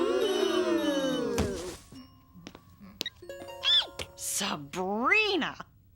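A cell phone rings in a cartoon classroom, a series of warbling electronic tones rising and falling in short bursts after a stretch of animated speech.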